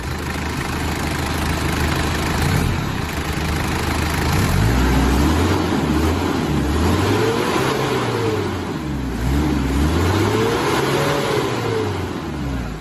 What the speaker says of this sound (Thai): เครื่องครับ ก็ยังโอเคอยู่นะ เดี๋ยวให้น้องเล่นเสียงให้ฟังเนาะ